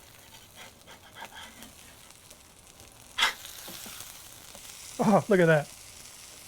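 Potato buns toast in a greased pan with a steady low sizzle, a sharp clack partway through, then a few words spoken over the frying.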